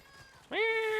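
A house cat gives a single clear, drawn-out meow, close and loud, after a moment of quiet room tone.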